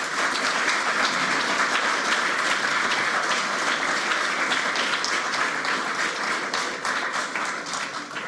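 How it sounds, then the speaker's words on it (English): An awards ceremony audience at an Australian national final gives sustained, dense applause for the judges coming forward, steady and fairly loud throughout with no talk over it. "while we receive a round of applause for your efforts"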